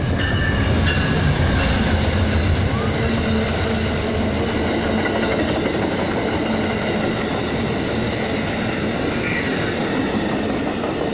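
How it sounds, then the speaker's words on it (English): An Amtrak passenger train rumbles past close by in Ashland, Virginia, with steady clattering wheels and rail noise holding loud and even throughout. "Here comes a Amtrak train."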